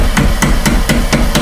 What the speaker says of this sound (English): Tap it with a little hammer.